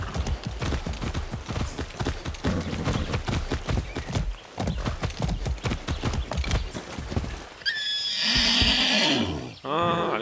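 A horse in the video game Far Cry 6 walks with quick, rhythmic hoof clip-clops while someone speaks over them, then neighs loudly near the end in a bright, shrill whinny.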